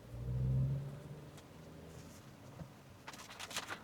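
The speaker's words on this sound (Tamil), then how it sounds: "ஒரு 1800 ஆர்பிஎம் கிட்ட கிராஸ் ஆகிறப்போ அந்த டர்போ ஸ்பூலிங் ஆகி அந்த பவர் வரதை நம்மளால தெரிஞ்சுக்க முடியுது." A Tata Curvv with a TGDI turbo petrol engine accelerates, a brief low engine swell early on that fades into a faint, steady hum, heard quietly and alone.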